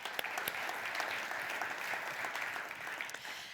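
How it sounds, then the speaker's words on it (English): An audience gives a round of applause at a lunchtime leadership talk, steady clapping throughout that sounds somewhat distant and thin, with no voices over it. "I think that deserves a round of applause."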